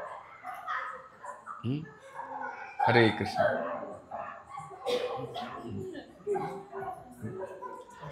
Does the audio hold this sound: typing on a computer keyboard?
no